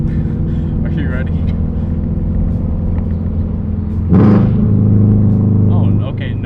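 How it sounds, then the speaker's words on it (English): Subaru BRZ with a JDL header, front pipe and Tomei 80R exhaust rumbles steadily from inside the car, swelling into a louder rev midway and holding there, under a voice talking. "That's a nice rumble. Like that noise right there. That's perfect Subaru sound right there."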